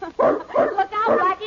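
A big dog barks in rough, overlapping bursts in an old radio drama scene, with voices talking over it.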